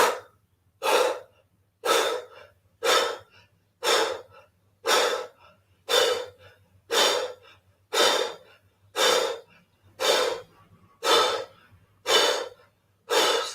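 Forceful exhales pushed out in a yoga breathing exercise, the belly drawing in with each one: about thirteen sharp, close breath bursts at an even pace of roughly one per second, with no talking.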